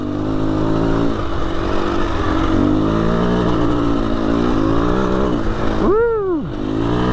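KTM 350 EXC-F dirt bike engine revving continuously on a dusty trail, loud and close from onboard the bike, with a sharp rising-then-falling rev swell near the end.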